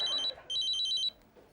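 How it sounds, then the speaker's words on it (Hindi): A telephone rings in two electronic trilling bursts, fairly clear and close, followed by quiet. "फोन बजता।"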